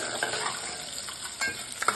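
Tempering spices sizzling in hot oil in a pan for an avalakki breakfast dish, a steady bright hiss with small pops and crackles, close and continuous.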